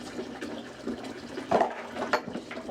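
Dishes are rinsed under running water, a steady tap stream splashing with scattered clinks and knocks of plates and cutlery close by.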